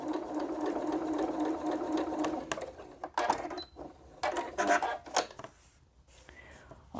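Sewing machine stitching half-square triangle quilt pieces, a steady mechanical whir for about three seconds, then stopping and starting in short bursts with clicks and handling noises.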